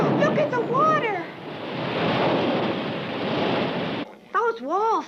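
Rushing, roaring waves of water in a Japanese anime cartoon, a loud steady broadband wash lasting several seconds, with voices speaking just before and right after.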